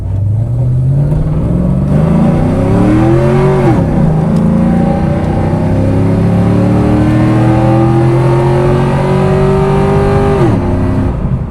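A 2001 Pontiac Formula Firehawk with a six-speed manual pulls hard, its loud engine note rising through the revs and dropping sharply at two upshifts, close and steady throughout with no talking.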